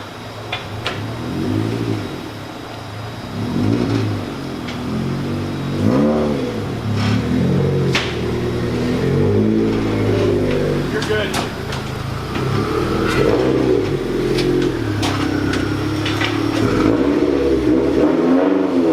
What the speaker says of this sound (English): once my car gets back on the dyno